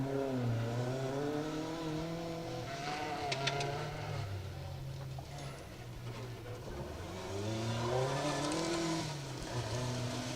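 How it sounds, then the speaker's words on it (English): A Ford Escort rally car on a gravel forest stage at the Woodpecker Stages Rally 2023, its engine revving hard and changing pitch through gear shifts as it passes close and loud, with no talk. "It's the Escort, the Fortis Island Limited sponsored car of Alan Young and Ashley Young, and they're certainly being caught."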